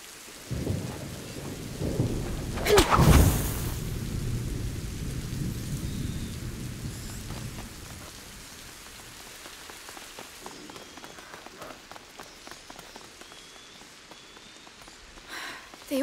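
Rain and thunder in the video game A Plague Tale: Innocence: a loud thunderclap crashes about three seconds in and rumbles away, over a steady hiss of rainfall that continues throughout.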